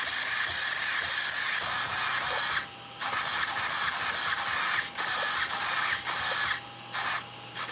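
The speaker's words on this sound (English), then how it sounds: "I can hear the fans starting up." Cooling fans spin up in a steady, fairly loud whirring hiss with mechanical ticking and a few abrupt cut-outs and restarts, with no voices.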